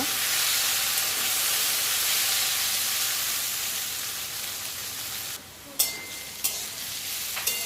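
Food frying in a pan with a steady, bright sizzle throughout, then a few scraping stirs of a spoon near the end as the sizzle dips briefly.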